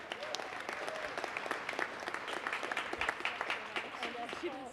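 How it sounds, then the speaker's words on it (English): A crowd at a Greater Boston Food Bank charity event in 2019 gives faint, steady applause, with talk mixed in beneath it. "Another round of applause."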